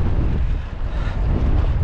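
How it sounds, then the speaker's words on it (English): Strong storm wind buffets a rider's microphone during a bike ride home, a loud continuous rumbling roar that fills the whole stretch with no speech over it. "So it's back out into the wind on the way home."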